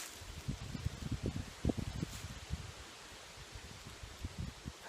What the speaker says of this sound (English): The wind has picked back up.